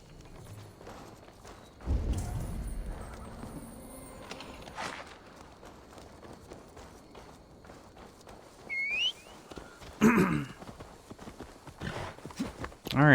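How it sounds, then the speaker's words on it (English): A horse's hooves clip-clopping at a walk in the video game Assassin's Creed Valhalla, a steady rhythmic patter under game sounds, a brief whistle and some talk. "Now to deliver Magni his horse"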